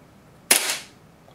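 An airsoft Hi-Capa pistol with a Nineball NEO aluminium magazine fires a single sharp, close crack that decays quickly into a quiet room, with no voices.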